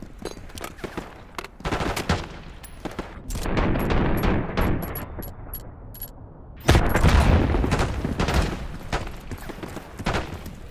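Call of Duty: Black Ops 6 combat rattles with loud bursts of rapid gunfire, broken by short pauses, and a heavy grenade explosion booms about two-thirds of the way through before the shooting continues.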